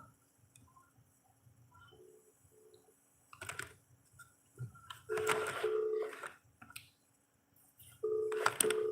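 Several short electronic phone tones sound in bursts, with a dialing beep sequence and a louder repeating call tone near the end, over faint background noise.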